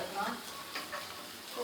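Curry leaves sizzling in hot oil for a home-cooked Tamil lunch tempering, a steady close crackling hiss with brief stirring swells rising and falling across the short stretch, no voices.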